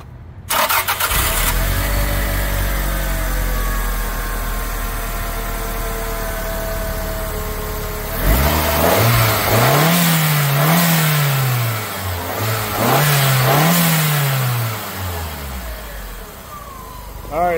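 Turbocharged 3S-GTE engine in a 1998 Toyota Caldina GT-T AWD with a blow-off valve cranks and fires up close by, settles into a steady idle, then revs repeatedly in rising and falling sweeps.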